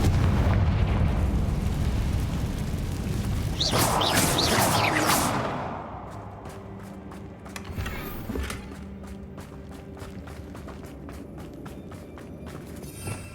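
Confringo fire spell exploding in Hogwarts Legacy, a bright burst crackling over a dense ambient bed, then fading into quieter game ambience with light footsteps and small clicks.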